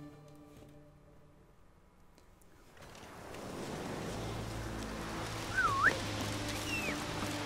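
A short rising two-note whistle from the character in The Witcher 3 sounds over the game's ambient wind and water beds, near and brief.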